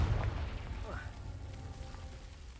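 A Confringo fire curse in the video game Hogwarts Legacy bursts with a deep, booming blast at the start that trails into a rumbling crackle, and a spoken voice can be heard under it.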